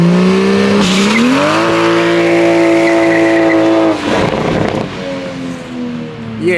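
A Toyota A90 Supra fitted with a Ford 8.8 limited-slip differential launches hard, engine revving high then holding a loud steady drone as tires squeal, with a brief rougher burst midway before the revs settle again.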